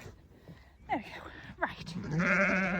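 A sheep with a bad back foot bleats at close range on a farm, short calls followed by a long, loud, wavering bleat, with handling sounds and a person talking nearby.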